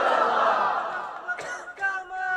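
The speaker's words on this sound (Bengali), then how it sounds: "দুইটা হাত সোজা করে আল্লাহর দেখায় একটা তাকবীর দিবেন জবান খুলে" A large crowd at an Islamic sermon gathering shouts takbir together in one loud, sustained, unison roar. Shorter bursts of crowd voices follow near the end.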